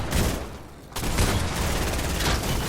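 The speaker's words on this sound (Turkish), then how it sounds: "bana bomba atıyor" Explosions from bombs thrown by an enemy in Fortnite, a loud burst of blasts and crackling booms, a brief lull, then another heavy eruption of rumbling detonations.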